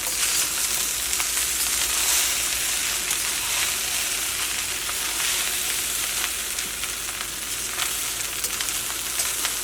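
Chicken fried rice stir-fried over high flame on a large burner, with spring onions added: a loud, steady sizzle that runs unbroken throughout, close up and with no voices.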